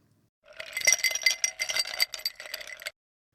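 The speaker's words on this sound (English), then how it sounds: "the clinking sounds in the glass. Two perfectly formed ice cubes falling from just the right height" Two ice cubes drop into a glass and clink against it in a quick, bright, rattling flurry, close and clear, for about two and a half seconds with no talking.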